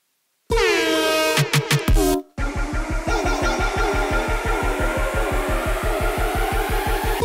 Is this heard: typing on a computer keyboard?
no